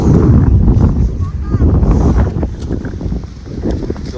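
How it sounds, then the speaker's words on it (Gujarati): Strong wind buffets the microphone across open cotton farm fields, a loud continuous low rumble with gusts that swell and ease throughout, while a person talks over it. "જેટલો પવન જોરદાર છે ને એટલે જમીન તરત જ સુકાઈ જાય છે"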